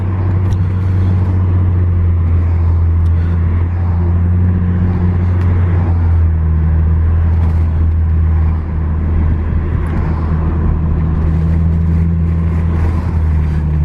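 Exhaust of an Infiniti G37 driving along, a steady deep drone with low engine tones shifting in pitch as it downshifts, loud and continuous throughout.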